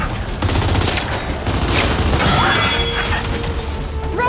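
Gears of War 5 combat with a frag grenade blast amid rattling gunfire and crashing impacts, loud and continuous, with voices faintly in the mix.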